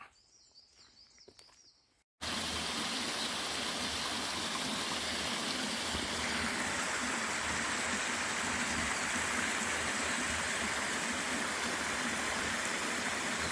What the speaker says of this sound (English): What a nice little waterfall.